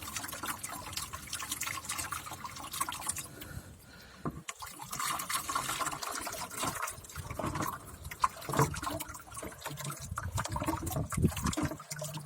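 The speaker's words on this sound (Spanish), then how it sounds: "Así vacíen completamente todo el ácido sulfúrico que está en el interior de la batería." Liquid sulfuric acid pours and splashes out of an upturned car battery, an irregular gurgling trickle with bursts of sloshing, fairly quiet and close, without talk.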